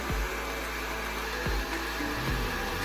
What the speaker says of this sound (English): using my GHD Helios hairdryer, I'm going to dry the product into the hair